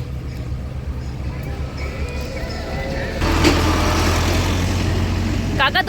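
A truck loaded with sugarcane arrives with its engine running, a steady low diesel rumble that grows louder and closer midway, with people talking nearby.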